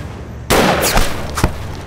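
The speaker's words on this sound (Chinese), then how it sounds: "大家趁机开枪" Gunfire in a Chinese spy drama shootout: a sudden loud burst of shots followed by a couple of sharper reports, close and dominant, no speech.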